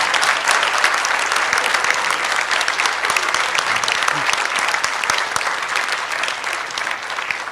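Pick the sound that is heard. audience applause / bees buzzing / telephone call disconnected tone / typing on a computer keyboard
audience applause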